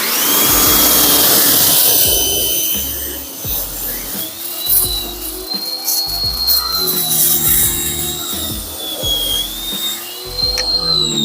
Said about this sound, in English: My pressure washer is not having this cold weather,